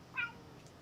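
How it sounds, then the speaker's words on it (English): A cat kept in a garage gives one short, faint meow against a quiet background hiss, heard alone without talking. "we have a garage cat"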